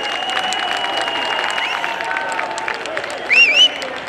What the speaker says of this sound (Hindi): नगर पालिका बहुत ही उल्लास के साथ तालियों से स्वागत करें